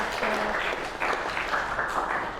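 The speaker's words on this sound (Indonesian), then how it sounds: "Beri tepuk tangan dulu untuk Naura." Classroom applause from students at a senior high school, a moderate, fairly soft patter of clapping that holds steady for a couple of seconds with some voices mixed in.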